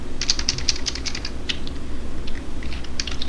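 Typing on a computer keyboard while building a stock-control spreadsheet in Excel: a steady run of light, quick key clicks at close range, with no talking.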